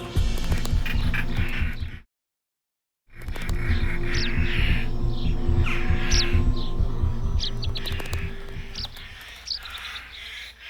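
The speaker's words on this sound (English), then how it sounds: "Rollers are very noisy at the onset of the nesting" European rollers call near their nest in the cracks of an old abandoned farmhouse: repeated harsh, chattering cries over a low hum, broken by a brief total silence.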